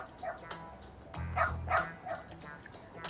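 Dog in the video game Lost Judgment, giving a few short, moderately loud barks and yips spread across a few seconds, with some low background sound.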